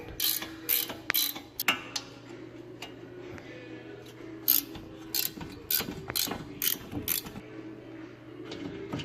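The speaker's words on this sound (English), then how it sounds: "So now we got to get that caliper bracket off with a 17mm." A ratchet with a 17mm socket removes brake caliper bracket bolts in rapid bursts of close clicking, broken by short pauses, over a low background hum.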